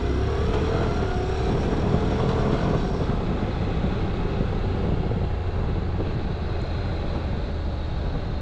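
A Honda DCT automatic motorcycle pulls away hard from a stop sign, its engine note rising and shifting through gears over a steady rush of wind noise, loud and close throughout with no talk.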